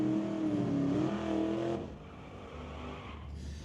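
Two drag cars, a 1966 Ford Mustang and a stock eliminator Camaro, launching on an eighth-mile strip: loud, layered engine roar with rising revs for nearly two seconds, then a sudden drop to a quieter, steady drone as they pull away.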